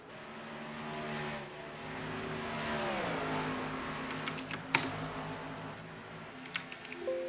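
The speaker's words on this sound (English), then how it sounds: "Yes, I know my keyboard is loud." A loud computer keyboard clatters in rapid, irregular bursts of keystrokes, close up, over the steady hum of a racing game's engine sound revving in the background.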